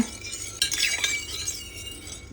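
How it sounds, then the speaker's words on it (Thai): Vinegar and salt are stirred together until dissolved to make a drain-cleaning mix, with a spoon scraping and clinking against the container in a few quick strokes, fairly close and alone. "คนให้ทั้งสองอย่างละลายนะคะ น้ำส้มสายชูและก็เกลือเนี่ย"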